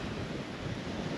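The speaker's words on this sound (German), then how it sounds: "Also es ist sehr windig und ich bin ja auch ein Windfänger." Strong wind on the Baltic Sea coast buffets the microphone of a touring cyclist, a steady, rough broadband rush with low rumbling gusts and no voices.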